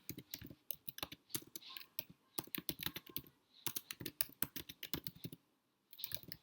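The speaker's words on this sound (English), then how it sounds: "you can type out the information" Rapid, close keystrokes on a computer keyboard come in irregular bursts of clicks with short pauses between words, the tapping quiet and alone.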